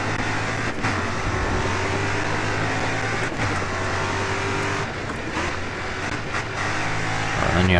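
A Super Ute race car in GRID Autosport is driven flat out down a long downhill straight, its engine roaring loud and steady at high revs with brief gear-change dips and rising tones near the end.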